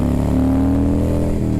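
Harley-Davidson Softail with an 88 cubic-inch Twin Cam engine pulling hard from a stop, its loud rumbling exhaust rising steadily in pitch through the gear, then dipping briefly at a shift; close and continuous, no talking.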